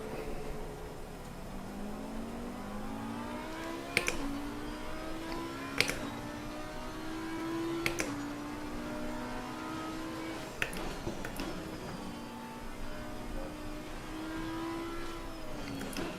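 Engines of race cars in a sim racing game on the Nurburgring, including a Porsche and a Bentley, whine steadily with rising and falling pitch as they shift and accelerate, plus occasional sharp clicks, no talking.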